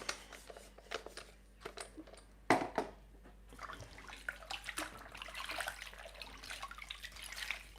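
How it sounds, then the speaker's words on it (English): Kitchen juicer parts rinsed under running tap water, with clinks and handling knocks, then a steadier splashing stream building toward the end, close by. "I just have to give them a little bit of rinse. Just rinse them off."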